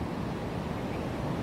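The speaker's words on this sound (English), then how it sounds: "The wind has been coming in gusts and it's really feeling explosive and powerful." Gusty wind and ocean surf roar during a storm from Cyclone Alfred at Main Beach on the Gold Coast, a loud, steady broadband rush with no speech over it.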